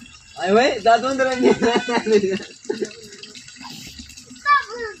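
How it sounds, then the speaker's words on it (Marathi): Tap water runs steadily into buckets being filled one after another, a constant hiss under the lively talk of children and adults. "पटा पटा पटा पाणी भरायचे आपल्याला"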